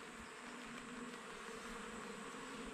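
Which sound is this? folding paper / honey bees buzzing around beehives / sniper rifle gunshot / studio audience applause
honey bees buzzing around beehives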